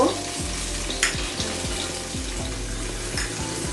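Chicken meatballs frying lightly in salted oil in a pan, a continuous close sizzle with regular soft clicks and scrapes as they are moved about, no voices.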